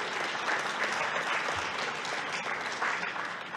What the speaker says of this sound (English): can we have a round of applause for Microsoft Azure